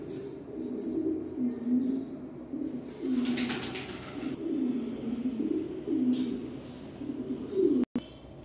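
Jacobin pigeons, almond-coloured, kept as a pair in a small partitioned cage, coo in repeated low rolling phrases close by, with faint chirps and a brief knock near the end.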